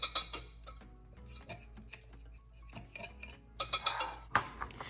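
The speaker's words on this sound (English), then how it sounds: "Let's go ahead and give that a mix." Dry keto cornbread ingredients, with salt among them, mixed in a bowl: close, irregular clinks and scrapes of a utensil against the bowl, coming in quick bursts with short pauses between.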